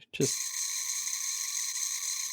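After a brief click, a small electronic fishing lure playing baitfish sounds gives off a steady, raspy buzzing chirp that continues unbroken, close to the microphone.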